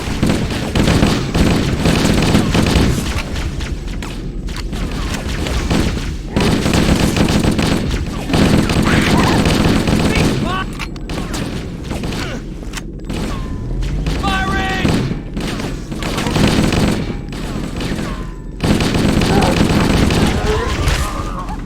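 Gunfire in Halo: Combat Evolved, with loud repeated bursts of automatic weapon fire and heavy thumps and explosions over about twenty seconds, mixed with shouted voices and game effects.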